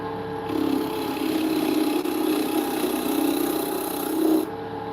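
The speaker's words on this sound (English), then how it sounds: "we're gonna need a bowl gouge" A bowl gouge cuts a spinning wooden blank on a lathe in one continuous, close rasping shave that starts and stops cleanly, with a steady tonal motor drone beneath.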